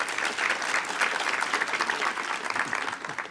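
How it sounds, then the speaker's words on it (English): A panel audience bursts into strong, close applause. The dense clapping of many hands stays loud and even for several seconds, with slight swells and no one speaking. "so give yourselves a round of applause"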